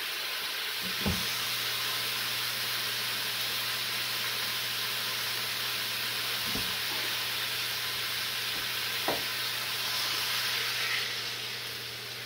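A constant loud sizzle and hiss of water hitting a hot frying pan, with a few faint clinks along the way.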